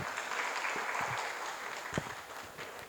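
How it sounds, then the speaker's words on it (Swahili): Applause from an audience at a university investment challenge event honouring the guest of honour, a steady broad wash of clapping with a few sharper claps standing out, moderately distant and continuous. "Makofi mengi zaidi kwa mheshimiwa mgeni rasmi."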